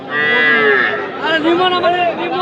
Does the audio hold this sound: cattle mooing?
yes